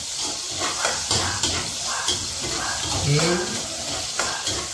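Chopped onion sautés in a pan for ginisang ampalaya, a bright close sizzle with scraping stirs and occasional utensil knocks against the pan, with one brief spoken word.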